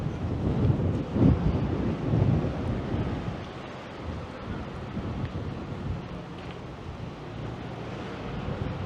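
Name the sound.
wind picking up on a downtown Toronto street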